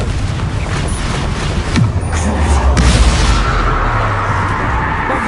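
Confringo spell blasts in Hogwarts Legacy, a loud, close boom followed by rumbling explosive noise and a low sustained roar, with brief bursts scattered through.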